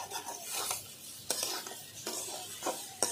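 Boiled taro fries with spices in a pan, a soft continuous sizzle broken by periodic scraping stirs of a spatula, fairly quiet and close.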